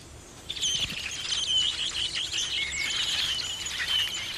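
Songbirds singing, a busy overlapping chorus of high chirps and trills starting after a brief quiet moment, continuous and fairly close, with no voices.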